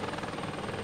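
Helicopter in the Arma 2 video game passing overhead, a dense, steady rotor and engine roar filling the short moment at close, even loudness.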